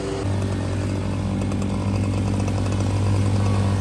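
A string trimmer runs steadily along a fence line, its two-stroke engine droning nearby at an even, continuous pitch for the full stretch, with no one speaking.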